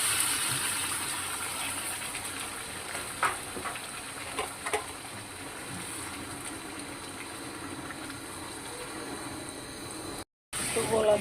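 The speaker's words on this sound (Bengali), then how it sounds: "চালগুলো ভাজা হয়ে গেছে, গরম পানি দিয়ে দিতেছি।" Hot water is poured onto fried rice in a pot for khichuri, giving a steady, moderately faint pouring and sizzling wash with a few small clinks, continuing throughout with a brief dropout near the end.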